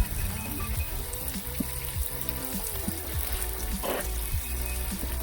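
Striped bass fillets sizzle steadily in a hot pan as their skin crisps. The frying hiss is loud and close and runs continuously, with faint clinks and a low hum underneath.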